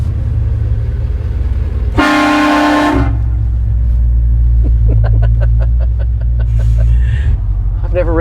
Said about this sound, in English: Should we give them the horn?